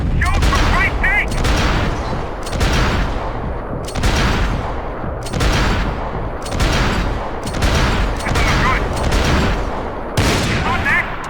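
Heavy gunfire in Max Payne 3, with loud repeated bursts and volleys arriving in regular waves across a tense firefight, close and forceful, with a shouting voice breaking through between them.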